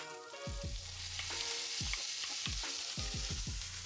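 Kimchi sizzles in a pan with crispy bacon, a steady frying hiss broken by repeated sharp scraping stirs, close and alone without talk.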